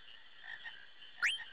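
A frog croaks in Final Fantasy IX, a single quick rising call near the end over a steady game ambience of marsh background tones.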